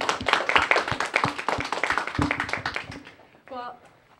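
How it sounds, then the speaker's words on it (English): Audience clapping for dance teachers at an Irish step dance evening, a brief burst of close, rhythmic applause mixed with talk that fades after about three seconds, followed by a short spoken phrase. "So I think they deserve a big round of applause."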